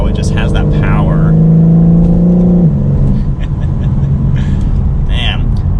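A 2021 BMW M4 Competition accelerates hard, its engine note loud and rising steadily through the revs before a shift and continued strong pull, close and dominant throughout.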